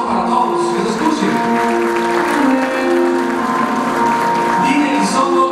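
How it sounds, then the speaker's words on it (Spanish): Steady applause from a crowd at a wedding fills the whole stretch, dense and continuous, with music or voices faintly underneath. "fortísimo, un aplauso para todos, que se escuchen"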